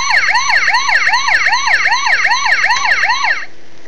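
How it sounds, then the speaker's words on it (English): An electronic toy siren from a Transformers Animated Leader Bulkhead figure wails in rapid repeating sweeps for about three seconds, loud and close, then cuts off abruptly. "He does have a siren. If you hold it down, it will hold the sound."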